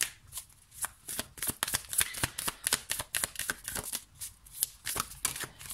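Playing cards shuffled by hand, a rapid run of crisp riffling bursts and soft flicks repeating steadily at close range, with no talking.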